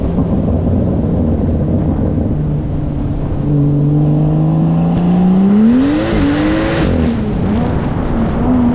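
A single turbo conversion BMW M3 running on E85, accelerating hard with a loud rising engine note that climbs through the gears and a brief shift dip, close and sustained with a turbo whoosh.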